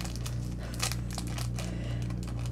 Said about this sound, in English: So let's just open this up